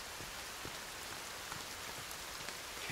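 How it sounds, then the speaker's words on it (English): Steady, dense rainfall in the video game Sons of the Forest, a soft continuous hiss with scattered drop ticks and no talking. "Here comes the rain."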